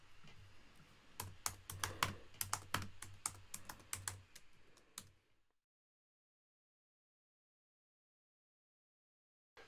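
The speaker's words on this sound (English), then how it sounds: "simply start typing the new translation." Someone types on a computer keyboard in a rapid run of crisp, close keystrokes for about five seconds, then stops, leaving near silence.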